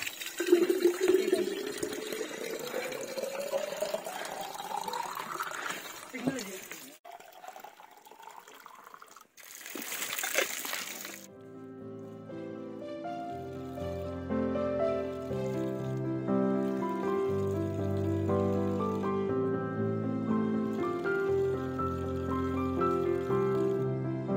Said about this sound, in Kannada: Natural tap water.